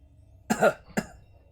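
Video game character in a fried-chicken dating simulator coughing with spice stuck in the throat, two close harsh coughs in quick succession.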